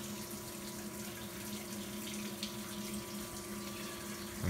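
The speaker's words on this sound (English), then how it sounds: "the coolant system is actually running at the moment." Coolant spraying inside the enclosure of a Tormach 770 milling machine, a faint, steady hiss and splash of liquid with a low hum beneath.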